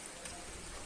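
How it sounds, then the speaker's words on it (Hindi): Steady rain falls in a village during the rainy season, a soft, even hiss of drops on surfaces with no voices over it. "महावट देखिए किस तरह से बरसता है।"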